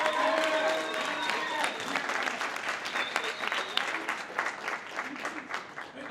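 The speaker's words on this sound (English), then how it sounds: "can we give your parents a round of applause," An audience at a school band concert applauds, a dense, loud burst of clapping from a large crowd that slowly thins and tapers into scattered claps.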